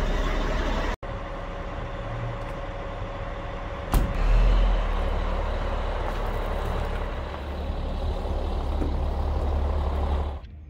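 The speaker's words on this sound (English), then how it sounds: "I can put this on rear start and start it from there at least" A twenty-odd-year-old RV engine starts from its rear start switch: a steady mechanical rumble, a sharp jolt as it catches, then a louder sustained idle with no talking.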